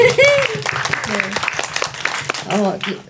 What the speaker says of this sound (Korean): 제가 정말 박수 쳐주셔서 감사하고요